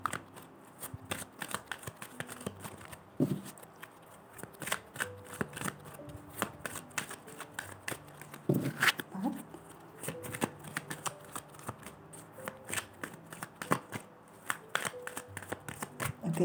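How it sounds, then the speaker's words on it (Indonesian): Tarot cards are shuffled by hand in a steady run of crisp riffles and snaps close to the mic, with someone speaking softly at times. "shuffle kartunya dulu"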